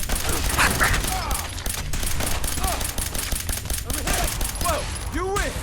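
A volley of gunfire rips through a Fallout 4 battle scene, dense rapid shots and crackling bursts stacked together without pause, with shouted voices and whistling effects mixed in over the firefight.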